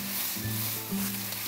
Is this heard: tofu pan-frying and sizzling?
yes